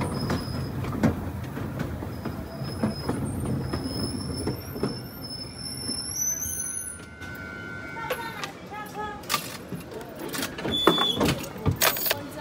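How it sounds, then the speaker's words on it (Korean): Wulai mini train in Taiwan rolling along its rails and gradually slowing toward the station, with a steady rumble, rattling cars and brief high wheel squeals near the end. "미니 기차의 속도가 점점 줄어요."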